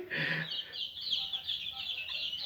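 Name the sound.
tiger chickens clucking, asking for food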